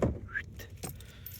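Car keys jangle in a brief, close, light metallic jingle while someone climbs into a Renault Trafic L1H1 van, followed by a soft shuffle inside the cab.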